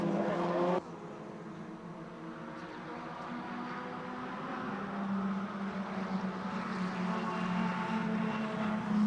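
Formula Ford race cars run down the straight at Pukekohe, a distant, steady engine drone that swells gradually as the field approaches, preceded by a brief louder burst at the start.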